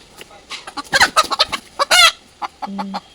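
A native desi chicken clucks and squawks in rapid, agitated bursts close by, with a louder flurried cry midway.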